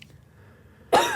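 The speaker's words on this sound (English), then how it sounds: "It's like the worst time to have to cough." One sharp cough comes suddenly after near silence, followed by a brief throat-clearing rasp, close and loud with no speech over it.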